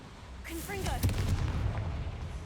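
A Confringo fire spell in Hogwarts Legacy bursts with a sharp blast and then a rumbling, crackling tail, preceded by brief magical whooshes and chimes.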